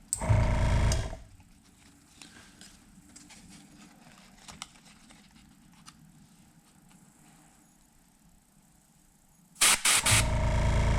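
An airbrush sprays paint onto a red sand craw crankbait: a loud hissing burst of air opens and closes the clip, with a soft, faint hiss and light taps filling the quieter stretch between.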